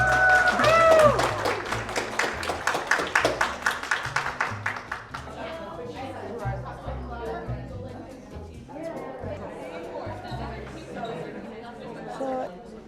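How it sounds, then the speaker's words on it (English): Crowd applause at an anime convention costume contest honouring the judges, a dense run of claps for several seconds before it thins into chatter and talking voices. "give them a round of applause and a thank you"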